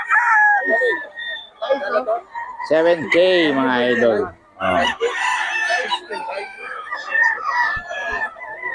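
Rooster crowing rises above a busy mix of clucking fowl and someone talking, with long harmonic crows in the middle of the clip; three-year-old gamefowl.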